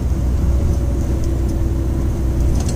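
A car cruises on a highway between Riyadh and Sulayyil at about 80, giving a steady, close, continuous rumble of engine and road noise with no talk.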